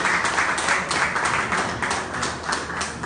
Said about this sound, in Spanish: Un aplauso para mi médico que está allá atrás.